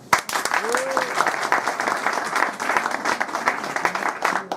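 Sustained audience applause at a French comedy show fills a room, dense and steady for several seconds, with a short whoop rising over the clapping near the start.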